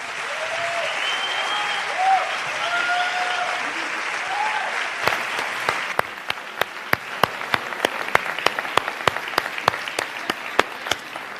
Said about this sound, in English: Another round of applause, please, for the recipients of our Encore Award.